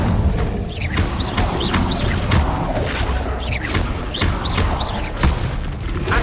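Spell impacts in the Hogwarts Legacy video game, with repeated booms, thuds and whooshing bursts landing over a dense, continuous game soundscape at a steady loud level. No one speaks.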